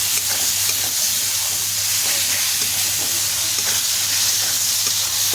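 Tomato fries in a hot pan and is stirred, giving a steady, loud, close sizzle and hiss throughout, with faint scraping under it and no talking.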